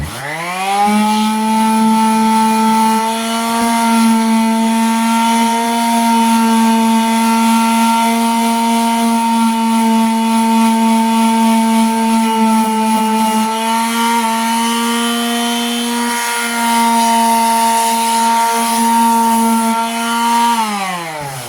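Power sander working steadily on Hampton Bay Sinclair ceiling fan blades, a loud, continuous motor whine held at an even pitch for the full stretch, with only slight dips as the tool presses on the blade.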